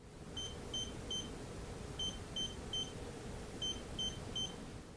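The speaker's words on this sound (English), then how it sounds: "I get a three beep signal," An electronic safe lock beeps in sets of three short, thin tones separated by pauses as its dial is turned. The beeps repeat several times, quiet but clear over a low steady hum.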